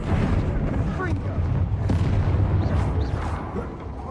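A Confringo blasting spell fires during a Hogwarts video game duel, producing rumbling, booming blasts that run throughout under a speaking voice.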